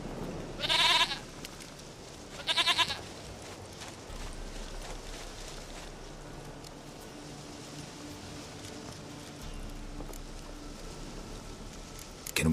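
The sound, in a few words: goat bleating in the video game The Witcher 3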